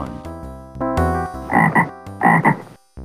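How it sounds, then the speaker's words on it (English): A frog in a talking storybook game from Kids Zoo: A Baby Animal Adventure on MS-DOS croaks loudly in two close pairs of throaty, rasping calls after a short musical jingle, with no talk. "Frog."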